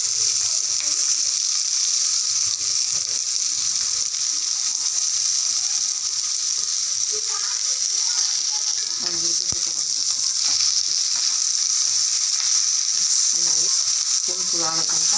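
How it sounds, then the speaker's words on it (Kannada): Onions and spices, including coriander powder and chilli powder, fry in a pan with a steady, loud sizzle throughout and occasional scraping of stirring. "ಕೆಂಪು ಆಗೋಕ್ಕಂತ ಫ್ರೈ ಮಾಡ್ಕೊತಾ ಇದ್ದೀನಿ, ಉಳ್ಳಾಗಡ್ಡೆ ಹಾಕ್ತಾಯಿದ್ದೀನಿ"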